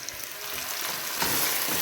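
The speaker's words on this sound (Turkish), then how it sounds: "Biraz kokusu çıkana kadar bunları da kavuracağım." Steady, close sizzling of spinach sautéing in a hot pan, a continuous crackling hiss with faint stirring.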